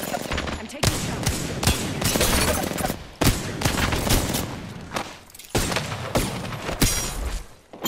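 Dense, rapid video game gunfire in a 1v1 match, bursts of automatic shots and booms packed tightly together, loud and close with brief gaps, a voice faintly under it.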